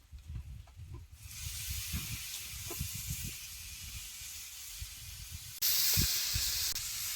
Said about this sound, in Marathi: ही फ्लावर चटा चटा तव्यात चांगला भाजून घ्यायचा